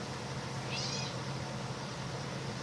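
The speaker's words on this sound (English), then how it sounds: "She's walking around underneath my chair, meowing." A single faint, high meow from a cat rises briefly over quiet background hum, then the room settles back to low noise.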